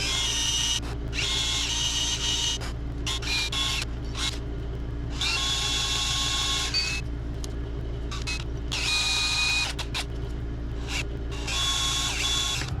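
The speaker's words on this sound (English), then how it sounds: "I'm going to drill, I think I'm going to start off with 4 holes" A power drill whines in repeated bursts, starting and stopping several times, drilling holes into the metal face of a Chinese diesel heater part, with steady machine hum underneath throughout.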